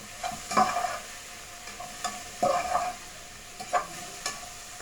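Onion and peppers frying in a pan while a utensil stirs them, giving soft sizzling with a few distinct scraping strokes at an unhurried pace, fairly close and moderately quiet, with no voices.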